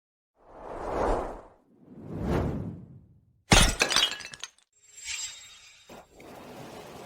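Ceramic cups being smashed in a villa: two soft whooshing swings, then a sharp loud shatter with scattering shards, followed by further crashes and tinkling debris, close and with no talk.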